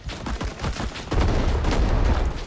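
Gunfire in the video game Rising Storm 2: a burst of scattered shots at first, then a dense, continuous roar of rapid firing and heavy blasts filling the second half, loud and close with no talk.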